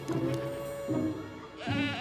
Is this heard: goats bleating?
yes